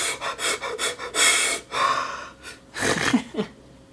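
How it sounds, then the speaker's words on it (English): A person yawns and breathes heavily, with long drawn-out airy exhalations and short breaths in between, close and fairly loud. "I can't stop yawning."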